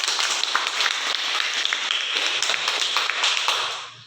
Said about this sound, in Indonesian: Berikan aplaus untuk jawaban dari kelompok 1